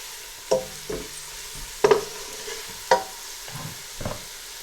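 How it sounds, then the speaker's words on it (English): Aubergine sizzles quietly in a pan while a utensil stirs and scrapes it in several distinct, irregular bursts. "Just fry this for a few seconds"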